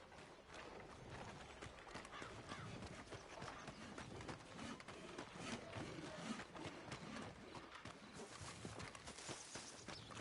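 Horses' hooves clip-clop steadily on ground in Red Dead Redemption 2, a faint, continuous rhythmic walking under low ambient noise.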